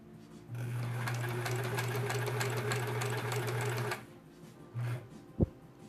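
A sewing machine stitches a quilt block for a sampler quilt with thin 50 weight cotton thread, running steadily and close for about three and a half seconds, then a brief second burst and a sharp click.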